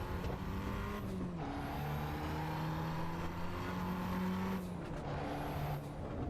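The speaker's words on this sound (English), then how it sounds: "Little Fiat can burble." A small Fiat engine in the Assetto Corsa EVO racing game hums steadily, with rising and falling revs and soft burbling through gear changes at a moderate, even level.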